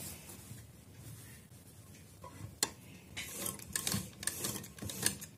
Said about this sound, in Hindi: अब मैं इस तरफ सिलाई लगाऊंगी